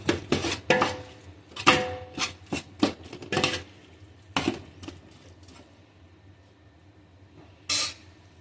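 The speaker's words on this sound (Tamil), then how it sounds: "தக்காளியை சேர்த்து நல்லா மிக்ஸ் ஆகி வதங்க மட்டும் வதக்குங்க" Tomatoes are stirred in a pot for mixed biryani, with a run of irregular metal spoon clanks and scrapes against the pot that fade into near silence, then one last short scrape.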